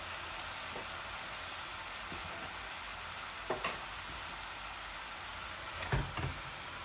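Tilapia fish frying in a pan of oil with beans and vegetables, a steady close sizzle with a few sharp crackles and stirring clatters, no talk.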